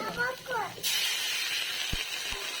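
Water poured into a hot pan of spiced potatoes and green plantain bursts into a loud, steady steam hiss that carries on after a brief voice at the start, with a couple of low knocks near the end.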